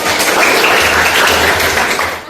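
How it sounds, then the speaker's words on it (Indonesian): Students in a classroom clap together loudly and continuously for a classmate, a dense close wash of clapping with no pauses. "Tepuk tangan buat Huda"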